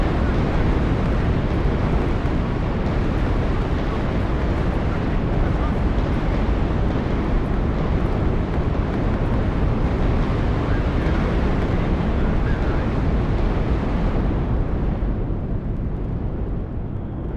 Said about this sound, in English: The most incredible rocket strikes.